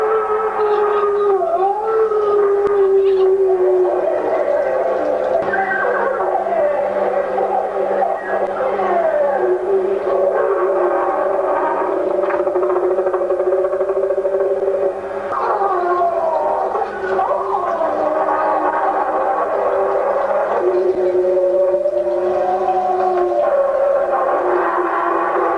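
An animatronic Bunyip's original roaring tape plays as a continuous, loud, wavering, howling roar that sweeps up and down in pitch. It fills the whole stretch with no voices, and it was audible from about a kilometre away.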